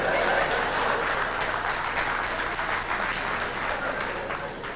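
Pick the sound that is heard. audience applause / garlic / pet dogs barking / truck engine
audience applause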